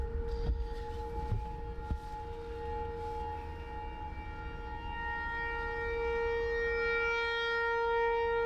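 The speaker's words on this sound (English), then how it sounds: "Still got tornado sirens going off in Stillwater" Tornado sirens in Stillwater, Oklahoma wail in long sustained tones from a distance, slowly swelling louder toward the end, with a few faint knocks early on and no talking.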